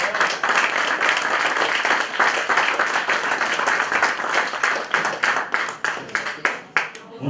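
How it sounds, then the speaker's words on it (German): Loud, dense applause from a carnival crowd at a Fasching farewell ceremony at a town hall, sustained close clapping that thins into scattered individual claps toward the end. "Nochmals kräftiger Applaus."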